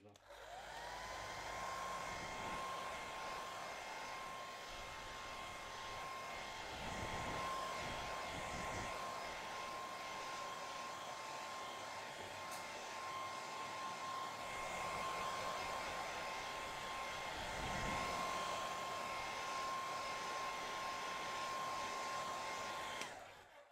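A hair dryer blows steadily on a wet watercolour painting of a Venice cityscape, a loud continuous whoosh with a constant whine that runs the whole time, close and alone.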